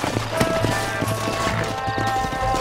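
Horses' hooves clip-clop at a steady, trotting pace in Red Dead Redemption's wild Pike's Basin country, the close, regular hoof beats sounding over a low outdoor background with no talk.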